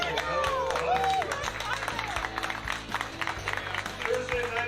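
Audience clapping at a live talk show taping in a bar, a steady crowd-wide patter of applause with voices calling out over it, fairly close and moderately loud throughout.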